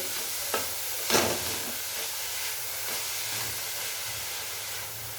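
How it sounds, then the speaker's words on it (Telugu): Jaggery is stirred into beetroot halwa in a pan over low heat, with a steady soft sizzling hiss. A couple of faint scraping knocks from the spoon come early on. "ఈ విధంగా బెల్లం వేసిన తర్వాత సిమ్ము మీద పెట్టుకొని కలుపుకోండి"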